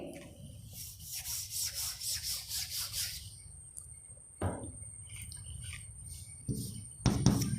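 Eraser or cloth rubbing chalk names off a classroom board in a rapid series of rhythmic scrubbing strokes, then a pause and a few scattered, softer wipes and knocks, close and moderately loud, with no talking.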